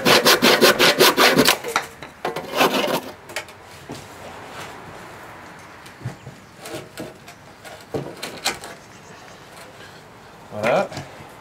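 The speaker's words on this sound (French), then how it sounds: "je vais finir mon encoche à la scie" Hand saw rasping through wood in quick back-and-forth strokes while cutting a notch for an outdoor staircase, loud at first, then slowing into scattered strokes and pauses.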